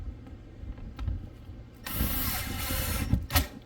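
A power driver sets screws through the flange of a PVC-roofed RV skylight, short whirring and ratcheting bursts with clicks and taps, close and moderately loud.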